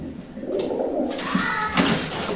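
White and grey wild pigeons scuffle at close range, with throaty cooing mixed with brief fluttering and scraping bursts, loud and near over a short stretch.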